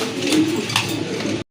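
Pigeons cooing at a bird market, a short close, low throaty coo that fills a brief moment before cutting off abruptly.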